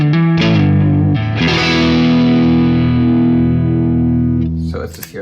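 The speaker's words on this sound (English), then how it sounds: "here we have the UC30 top boost model on cool" Electric guitar played through a Vox AC30 Top Boost amp model set to cool with moderate gain, sustained chords ringing loud and overdriven with a long decaying tail and a brief pick scrape at the end.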